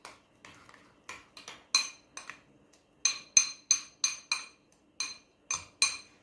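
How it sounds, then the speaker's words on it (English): A utensil clinks against a container while stirring a soy curl marinade of Marmite and water, giving sharp, close taps in an uneven rhythm with brief silent gaps between them. "Just going to give this a really, really good stir."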